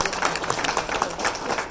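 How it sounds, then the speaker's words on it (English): Audience applause for symposium panelists at a law review event, a dense steady patter of many hands clapping at moderate volume, continuous for the whole stretch. "join me in giving a round of applause to our panelists"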